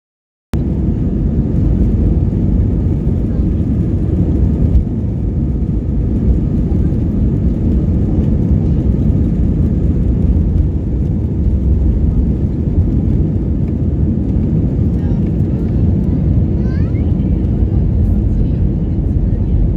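Steady, loud airplane engine roar fills the whole stretch while passengers board a flight on a trip to Hobart, a dense continuous rumble with no breaks.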